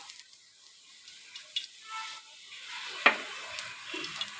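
Nigella seeds hit hot oil in a wok and sizzle as a soft, faint hiss, broken by a single sharp utensil clink midway and a few light ticks near the end.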